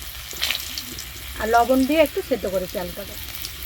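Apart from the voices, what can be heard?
potatoes frying in a wok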